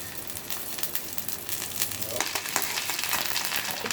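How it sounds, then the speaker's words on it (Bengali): Chopped garlic sizzles in hot mustard oil in a kadai for a pointed gourd bharta, a steady broadband frying hiss that swells slightly partway through, close and continuous with no talking. "এ পর্যায়ে কিছুটা সরিষার তেল দিয়ে দিচ্ছি"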